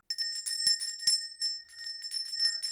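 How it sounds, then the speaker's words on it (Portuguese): Bell ringing in a film scene, a bright sustained metallic tone with several distinct strikes and shimmering overtones, moderately loud with no talking. "atenção pro sino, gente"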